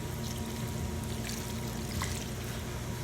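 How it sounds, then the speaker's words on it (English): Homemade salad dressing is poured from a shaken container over a salad, a soft, steady trickling splash that runs faint and continuous for a few seconds without talk. "I'm just going to pour it all over the salad."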